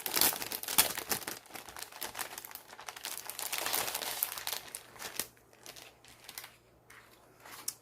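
Plastic wrapping around a Google Cardboard kit crinkles and rustles in irregular close bursts as it is handled and unpacked indoors, with brief quieter pauses between handling.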